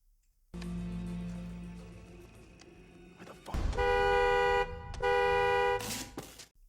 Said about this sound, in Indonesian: Tanda klakson dari Tidu adalah awal mulai dari pertempuran ini dimulai.